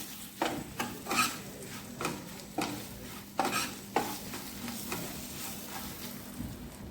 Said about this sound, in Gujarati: હવે બધું આપણે મિક્સ કરી અને થોડીક વાર માટે સાંકળી લઈશું